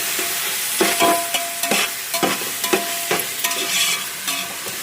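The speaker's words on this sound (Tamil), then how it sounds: "இது மட்டும் நல்லா கிளறி விட்டுக்குங்க." Onion, tomato and mint frying for chicken biryani are stirred in the pan, a series of loud, sharp scraping strokes in irregular rhythm over a continuous sizzle.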